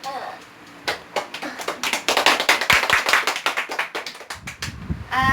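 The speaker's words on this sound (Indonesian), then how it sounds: "beri tepuk tangan untuk Nisa" A small group of schoolchildren clapping hands in a third-grade classroom, uneven quick claps for a few seconds, close by, fading out toward the end.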